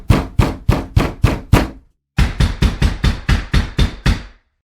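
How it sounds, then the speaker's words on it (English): Frantic, aggressive pounding on a closed door: a rapid run of six heavy blows, a brief pause, then about nine more in quick succession, loud and close with no voices. "Very frantically, aggressively, they're banging on the door."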